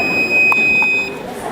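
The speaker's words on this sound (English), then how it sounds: "We will not close door properly, it will be detected, and that will be buzzer." Buzzer from a door sensor alarm in a school tinkering lab, a steady high-pitched electronic tone sounding for about a second over a noisy room before cutting off.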